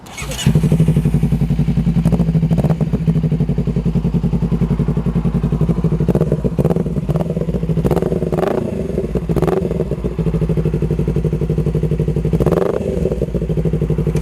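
A Honda CBR250RR motorcycle with an aftermarket exhaust idles loud and close with a deep rumbling exhaust, punctuated by several sharp throttle blips and brief revs.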